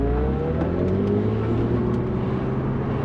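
A Mercedes SLK 350 accelerates on a race track with a loud, steady engine note whose pitch climbs gradually from the cabin, with no talking.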